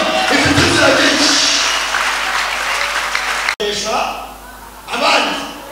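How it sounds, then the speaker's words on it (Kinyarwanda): A church congregation claps in dense, sustained applause that fades after a few seconds, followed by scattered claps and a brief renewed burst, with a voice over the clapping. "murayiha amashyi"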